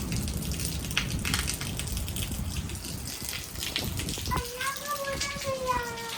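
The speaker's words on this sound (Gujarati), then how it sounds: "ના ના ચાલુ છે હજી તો બહુ બધો વરસાદ આવવાનો છે" Rain falls steadily at a family home, a continuous patter and gush throughout, with a voice rising over the downpour in the final seconds.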